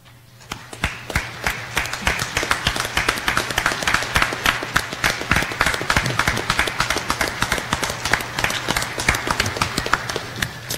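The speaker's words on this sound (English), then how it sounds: "stand and salute the efforts of your individual support networks with a round of applause" An audience gives a round of applause at a military off-duty education graduation ceremony. Dense, rhythmic hand clapping holds steady and fairly loud for about ten seconds after a brief quieter start.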